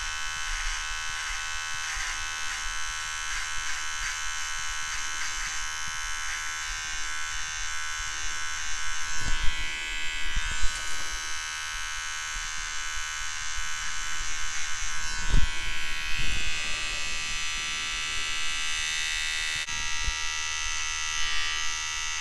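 A Vivitar nose hair trimmer buzzes continuously and close at hand with a steady high-pitched electric whine, its tone shifting slightly and ticking faintly as it is moved against hair.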